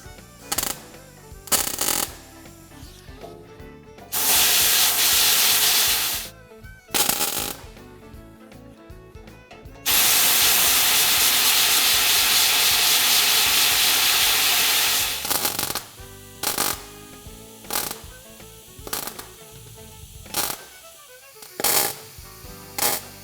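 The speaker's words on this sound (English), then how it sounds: "it looks to me like we're about ready to start welding" A metal patch held in place by magnets is welded, giving long stretches of loud, dense, crackling buzz that start and stop abruptly, broken by sharp clicks and quieter gaps, close and with no talk.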